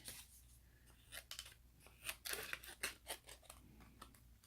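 Small, sharp craft scissors snipping paper in a quick series of close, crisp cuts, with light rustling between snips and no talking.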